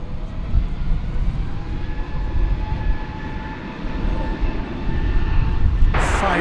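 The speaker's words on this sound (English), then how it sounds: "So this is going out as Iberia flight 6148 to Madrid." An Iberia Airbus airliner departing DFW airport gives a steady, broad engine roar with a faint whine, loud and continuous throughout, swelling slightly toward the end.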